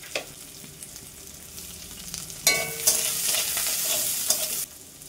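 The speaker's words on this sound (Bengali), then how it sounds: "তো সেই জন্য আমি পেঁয়াজটাকে আবার একটু ভেজে নিচ্ছি," Chopped onions sizzle in hot oil in a pan for a Bengali prawn and fish curry meal, with a bright frying hiss that surges as they are stirred, then cuts off.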